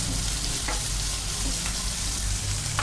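Onion and green chillies sautéing in a pan for spicy Maharashtrian brinjal rice, a loud, dense, continuous sizzle with faint stirring scrapes, close up, no voices.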